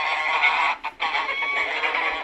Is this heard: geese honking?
yes